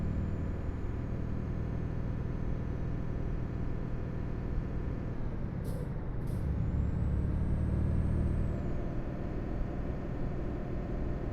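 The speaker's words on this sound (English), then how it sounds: "So it must be the sound of my truck." Heavy truck in Euro Truck Simulator 2 climbing a hill in low gear, a steady loud engine rumble throughout with two short air-brake hisses midway, close and continuous with no talking.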